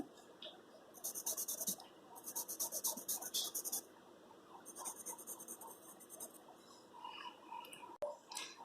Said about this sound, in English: As if you are coloring with the pencil.